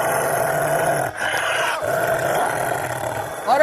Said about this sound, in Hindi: तभी वह भेड़िया जोर जोर से गुर्राने लगता है